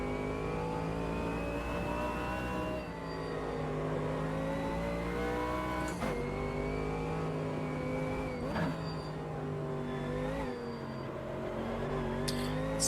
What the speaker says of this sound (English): lap of Nordschleife in the AMG GT3